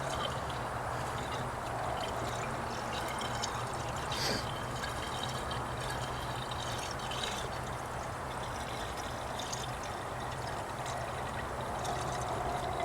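Pure antifreeze coolant drains from a Chevy Tahoe while its water pump is replaced, a steady splashing pour and trickle that carries on for the whole stretch at an even level, with no voices over it.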